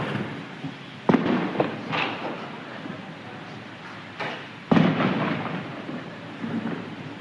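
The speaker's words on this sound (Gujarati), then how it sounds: "આ ઘર ઉપર ને ઘર ઉપર ફટાકડા પડો" Two sharp Diwali firecracker bangs burst about four seconds apart, with smaller pops and crackles trailing after each, fairly distant against a quiet background.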